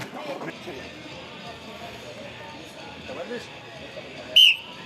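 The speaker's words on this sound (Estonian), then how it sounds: "vile kõlas, aeg hakkas jooksma" A referee's whistle at a strongman competition gives one short, sharp shrill blast near the end, standing out above a crowd murmur and a commentator talking in the background.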